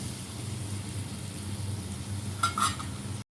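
Potatoes in a cooking pan sizzle steadily as water hits the hot surface, a close, continuous hiss with a brief louder burst and a light clatter of the pan near the end.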